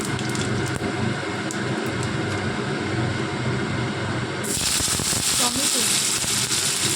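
Cumin seeds and dried red chilli drop into hot oil for Bengali moong dal, a dense, loud, continuous crackling sizzle that swells sharply halfway through, with a voice talking over it.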